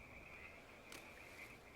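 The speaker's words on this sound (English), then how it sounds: "Hear the frogs croaking in the background." Frogs croak steadily in the background of Ultimate Fishing Simulator, a continuous chorus at even volume over a faint ambient hiss and no talk.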